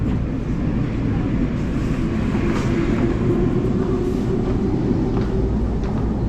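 A crowded train arriving at a station at night, a steady broad rumble of wheels and carriage noise throughout, fairly close and continuous, with faint voices in the background.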